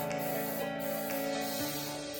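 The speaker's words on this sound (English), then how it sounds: "I'm using a baking spray in order to make sure that my cake doesn't stick" Baking spray hisses from an aerosol can into a cake pan for pound cake, a few short bursts close by over a steady background hum.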